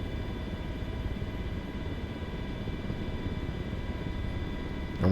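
An MH-60 helicopter descends into a hover, giving a steady, loud rotor and engine drone with low rumble and a constant turbine whine, unbroken and with no talk.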